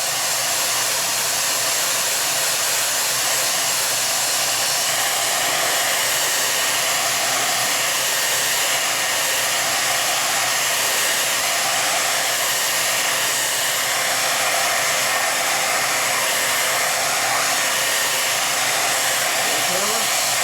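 A hair dryer blows steadily on a clay bowl base, a loud continuous close-up whoosh holding an even tone throughout with no talk.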